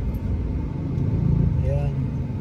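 Congested street traffic of tricycles, motorcycles and cars in Binmaley, Pangasinan, heard from inside a car: a steady low engine rumble and passing motor drone, with a faint horn-like tone, under a person talking.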